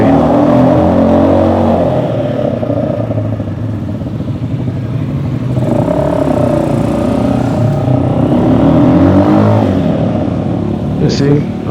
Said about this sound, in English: My motorcycle is gonna be revving